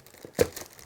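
Plastic packaging crinkles once, brief and close, as a Solity GT5BK Wi-Fi smart lock is unboxed, a short crisp rustle against a quiet room.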